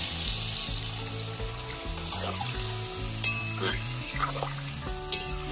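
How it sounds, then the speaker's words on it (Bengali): Water poured into a pan of cumin-paste fish curry (katla with ridge gourd and potato) hisses against the hot oil with a steady sizzle. Faint clinks of a stirring utensil sound under background music. "এবার আমি জল দিয়ে দেবো।"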